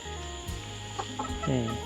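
Hens settled for the night in a coop give a few soft, close clucks over a quiet background, brief and intermittent.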